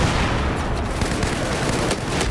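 Dense, continuous gunfire from close-quarters combat in Battlefield 4, a steady roar of overlapping shots with no clear pauses, loud and near throughout.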